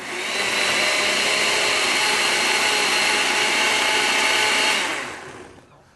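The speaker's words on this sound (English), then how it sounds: "So just add the tomato inside, and you just want to put it on a blend." A blender whirs steadily, blending fresh tomatoes for a chilled tomato soup, a loud, close, even motor roar that holds for several seconds and then winds down.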